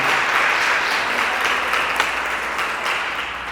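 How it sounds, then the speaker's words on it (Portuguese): An audience applauds at a Catholic consecration gathering, a dense, steady clapping that stays loud throughout and eases slightly toward the end, with no speech over it. "Uma salva de palmas para isso, pelo amor de Deus."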